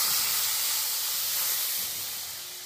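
Leftover milk is poured into fried semolina in a hot pan, giving a loud, close burst of hissing steam and sizzle that slowly fades over a few seconds.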